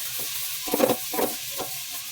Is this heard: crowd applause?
no